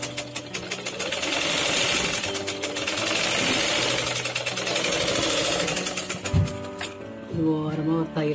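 A sewing machine top-stitches a garment neckline with thread of matching colour, giving a loud, continuous, rapid mechanical whir close by that slows and stutters briefly near the end.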